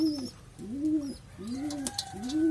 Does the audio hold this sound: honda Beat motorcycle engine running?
no